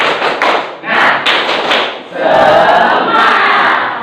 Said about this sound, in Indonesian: Nanti kita tepuk semangat.